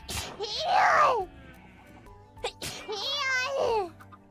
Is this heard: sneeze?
yes